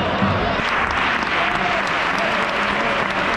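Football fans applaud in a stadium during a Racing Santander versus FC Andorra match, a steady dense wash of clapping holding at even loudness throughout, with crowd noise and some voices underneath.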